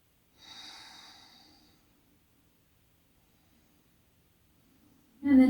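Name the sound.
breathing during yoga pose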